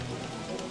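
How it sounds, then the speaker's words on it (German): Steady hiss of rain falling on a surface in the video game Don't Starve Together, with soft scattered patter throughout, heard without any voices. "Es regnet immer noch."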